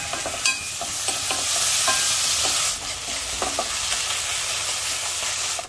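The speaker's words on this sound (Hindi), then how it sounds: "अब हम इसमें डालेंगे अदरक और लहसुन कुटी हुई, उसको भी थोड़ा सा हिला लेंगे" Crushed ginger, garlic and chopped tomato frying in a pan give a bright, steady sizzle, with several soft scraping stirs near the start.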